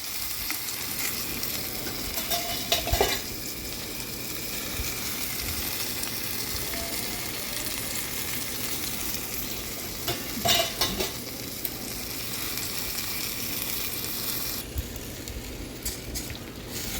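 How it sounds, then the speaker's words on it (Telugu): A tomato curry for tomato perugu pachadi, seasoned with salt and turmeric, is stirred in a pan, giving a steady low scraping and soft sizzle that runs throughout with a few brief louder clinks. "మొత్తం అన్నీ కలయబెట్టాలి."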